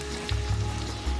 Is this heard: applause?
no